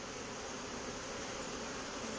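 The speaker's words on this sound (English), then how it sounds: "I'm tempted to knock some of these bees off into a tray" A swarm of honeybees in early April, a dense, steady buzz of many wings close by that holds level throughout with no voices.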